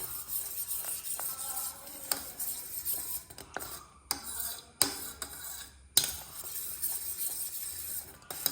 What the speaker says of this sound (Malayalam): ഇങ്ങനെ നന്നായിട്ട് സ്റ്റിർ ചെയ്യാം.